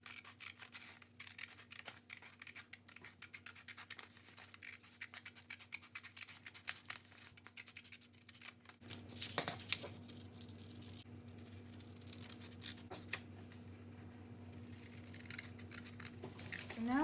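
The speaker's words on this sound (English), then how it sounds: "Now I'm going to switch over and use some scissors just to make it a little bit easier." Scissors cutting a paper gingerbread house shape for a lantern, with steady close snipping and rustling paper at first, then heavier crinkling paper handling.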